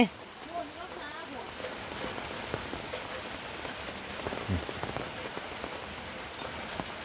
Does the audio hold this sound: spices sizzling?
no